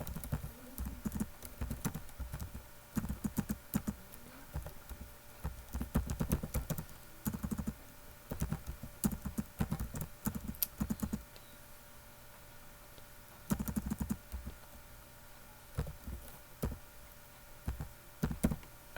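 Typing on a computer keyboard gives quiet, irregular bursts of close key clicks and taps, with short pauses between runs of keystrokes, and no talk.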